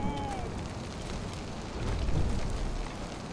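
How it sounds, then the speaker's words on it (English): Fire flaring up in the prehistoric video game Far Cry Primal, a dense, steady roaring crackle that swells midway, loud and close, with no voices over it. "What if I light this on fire?"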